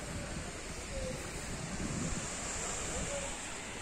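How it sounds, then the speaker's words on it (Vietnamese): Surf rolling onto the wild, rocky shore of Kỳ Xuân beach in Kỳ Anh, Hà Tĩnh, a steady broadband wash of waves mixed with wind buffeting the microphone, continuous and fairly close with no speech. "Đây là bãi biển Kỳ Xuân, Kỳ Anh,"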